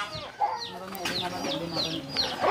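Several chickens raised by a Raglai household in a mountain village in Ninh Thuận cluck and squawk close by in quick, overlapping calls, with a faint voice in the background.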